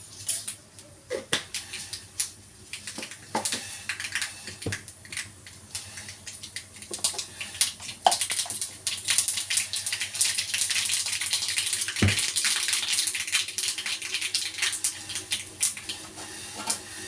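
Mustard seeds crackle and pop in hot coconut oil, a dense, steady sizzle with sharp spitting pops scattered throughout, close and fairly loud, building denser toward the end.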